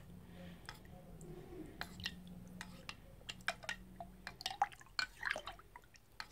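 Spoon stirring powdered dye in liquid inside a crock pot, soft wet scrapes and irregular small clinks and drips, close and quiet, with a faint low hum underneath.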